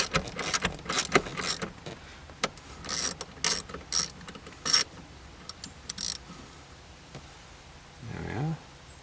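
A ratchet wrench backs off a bolt on a Mazda MX-5 Miata convertible top latch with close, sharp bursts of rapid clicking in irregular groups, then a brief softer scraping rumble near the end.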